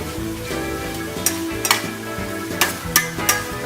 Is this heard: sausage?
yes